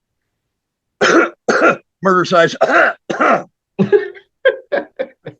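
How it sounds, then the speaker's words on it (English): Several short bursts of coughing and throat clearing, close up, mixed with a few spoken words, ending in a quick string of small hacking coughs. "You're coughing."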